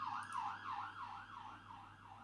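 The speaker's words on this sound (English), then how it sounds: "there was a siren that just went past. It looked like an ambulance." An ambulance siren wails past in a steady rising-and-falling sweep, about five cycles, fairly loud and alone with low traffic rumble beneath.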